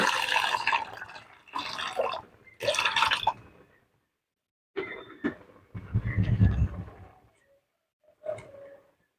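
Gobindobhog rice being washed in water for khichdi, with several short bursts of sloshing, pouring and dripping water separated by pauses, close and fairly loud.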